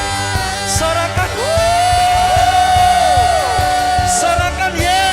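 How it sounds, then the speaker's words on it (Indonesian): Worship congregation cheering and whooping in a church service, a loud sustained crowd roar over music with a held tone, voices rising and falling throughout. "Sorakan"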